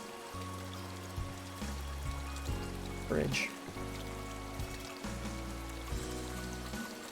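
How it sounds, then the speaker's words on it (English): Gentle flowing water ambience in the Higurashi visual novel, a steady trickling wash that stays low under background music, with a brief spoken word partway through. "I like the water noise in the background"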